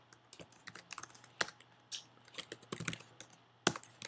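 Quiet, close keyboard typing as Java code is entered on a computer, a quick irregular run of light key clicks with a few louder taps and no talking.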